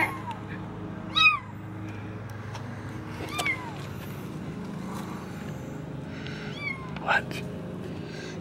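A trapped kitten meows several times, thin high cries spaced a couple of seconds apart, fairly close over a low rumbling background, with a voice murmuring faintly underneath.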